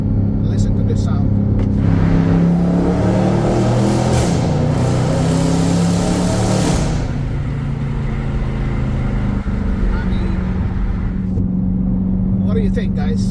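A Dodge Hellcat V8 engine revs loudly and steadily, with a deep rumbling roar that holds for the whole stretch, swelling near the start and easing slightly midway.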